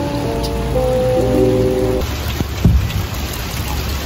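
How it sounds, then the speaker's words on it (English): Rain falling outdoors along a neighborhood trail, a steady hiss of drops throughout, with a tonal hum fading out midway and a brief bump partway through. "It's raining now."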